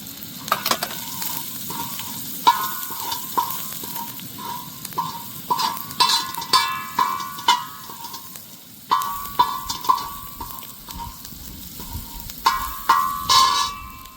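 Garlic and fresh coriander crackle and sizzle steadily in hot tempering oil for a tadka, close and continuous with small bright pops and the occasional scrape of stirring.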